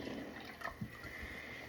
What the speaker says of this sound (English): So we pour the sap in,